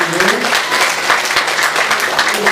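Dense, steady applause from a congregation at a Christmas service in a church, loud and continuous throughout with no pauses.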